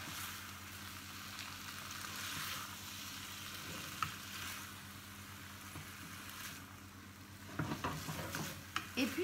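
Vegetables stir-fry in a wok, with a continuous close sizzle and spatula scrapes and clanks as the wok is worked, growing busier toward the end.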